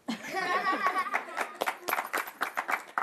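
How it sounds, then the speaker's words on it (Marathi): A studio audience on a Marathi television game show breaks into a short burst of sharp, uneven hand claps, preceded by laughter and voices. "काय टाळ्या वाजवल्या आहेत"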